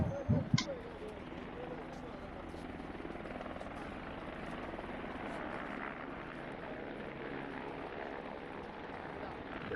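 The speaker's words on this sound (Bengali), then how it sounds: "এই দেখুন, কেদারনাথের হেলিপ্যাড থেকে আর একটা হেলিকপ্টার টেক অফ করছে।" A helicopter taking off from the Kedarnath helipad, its steady rotor drone and engine roar filling the scene, constant and fairly close, with a brief clatter near the start.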